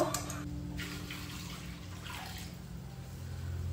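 Food is washed in water in a home kitchen before a short boil, giving soft running and splashing sounds. The sound is quiet and continuous, with a few brief clinks near the start and no talk.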